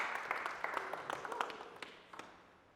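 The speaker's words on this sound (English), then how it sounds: "So give him a clap." A small audience at a personal budgeting event claps, a brief scatter of applause that starts lively and thins out over a few seconds, with faint voices underneath.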